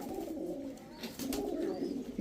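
Pigeons, including a white male bird, coo softly in a low, rolling murmur that repeats through the whole stretch, close but quiet, with no one speaking.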